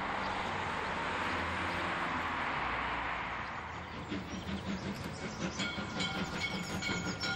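A Wismarer Schienenbus T41 railbus on a German museum railway, heard as a loud steady rolling rumble and hiss that gives way to rhythmic clicking of wheels over rail joints as it passes nearby.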